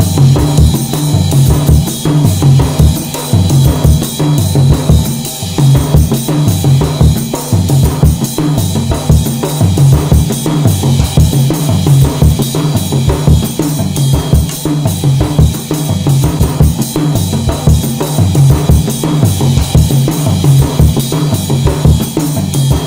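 A bembe rhythm with bell and tambourine parts layered together, a steady dense percussive groove with a repeating low pulse that holds loud and even throughout, with no talking.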